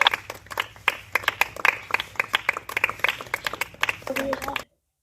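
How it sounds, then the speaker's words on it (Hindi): Scattered clapping from a small group, uneven and close, fading out abruptly, with a voice briefly talking near the end. "इनके लिए एक बार जोरदार तालियां हो जाएं"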